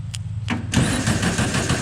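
A car engine is cranked and catches, a short starter whir followed by the engine firing into a loud, rough idle close by.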